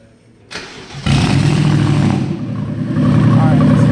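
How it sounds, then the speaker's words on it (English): A BMW N63 engine with worn valve seals cranks and catches, then settles into a loud, steady idle close by, with a slight rise in revs near the end. "I'll start the car up and I'll show you what's going to happen if you have bad valve seals"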